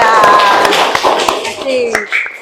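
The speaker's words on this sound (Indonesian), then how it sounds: "Tepuk tangan ya." Junior high school students in a classroom clap their hands in a few scattered, sharp bursts mixed with lively voices and chatter close by.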